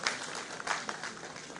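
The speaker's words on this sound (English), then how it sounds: "A big round of applause for today's President and our Honorable Vice Chancellor." Audience at an international agricultural sciences conference applauding the president and vice chancellor, a dense, steady burst of many hands clapping together, loud and close.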